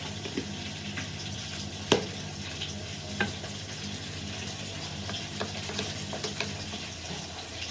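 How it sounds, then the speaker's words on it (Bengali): A large spoon stirring chia seeds into yogurt in a bowl gives soft, irregular scrapes and light clinks, one sharper tap standing out, over a low steady background hum. "চামচটা আমার অনেকটাই বড় হয়ে গেছে চিয়া সিডসটা দইয়ের সাথে মেলানোর জন্য"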